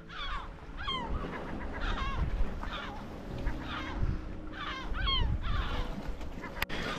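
Gulls call repeatedly in short, sharp bursts around a rocky island coast, loud and close over a steady rush of wind and surf.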